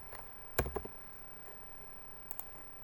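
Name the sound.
computer mouse clicking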